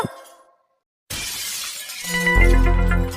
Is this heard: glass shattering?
yes